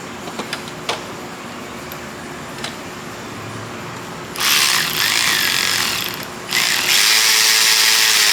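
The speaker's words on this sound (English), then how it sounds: "So we're going to put these 2 bolts in here, and we're going to get our throttle body reinstalled real quick." A power tool driving bolts to reinstall the throttle body on a Dodge Grand Caravan, with a few light clicks and a steady hum, then two loud sustained whirring bursts close by.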